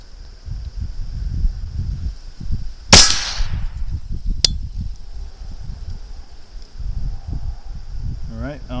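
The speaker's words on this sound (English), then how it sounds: "I'm going to charge the weapon. Range is hot, and we'll go with one shot at 50 yards." A single rifle shot cracks out at a 50-yard range during zeroing: one sharp, loud report that decays over about a second, followed by a fainter click, all over a low rumbling outdoor background.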